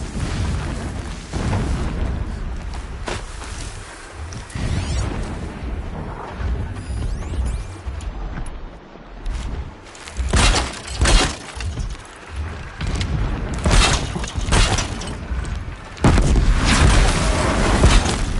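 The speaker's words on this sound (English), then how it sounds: "Explosions in the distance." Heavy booming blasts from explosions in the distance in the video game Horizon Zero Dawn, a series of deep rumbling impacts spread across the scene, loud and continuous with no talking.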